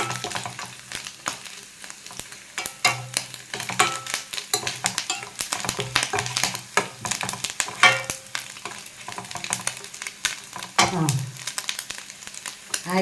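Grated coconut fries with curry leaves in a pan, sizzling and crackling steadily while a spoon stirs and scrapes in irregular bursts, close and moderately loud, with no talking.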